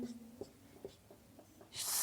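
A few soft, scratchy strokes of writing on a board during a Hindi reasoning lesson on syllogisms, quiet and close, with no talking.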